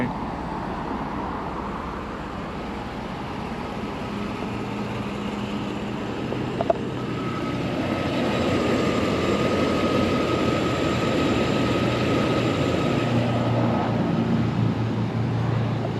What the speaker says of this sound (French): le moteur est en route